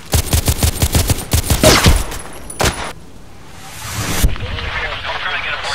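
Rapid bursts of weapon gunfire in the shooter Contract Wars, a run of sharp close shots in the first two seconds, then a few isolated bangs and softer rumbling action.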